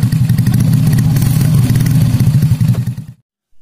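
Racing motorcycle engine built with a Juve piston, T1 BRT camshaft and double ball bearings, revved hard up close with a loud, throbbing pulse held for about three seconds before cutting off sharply.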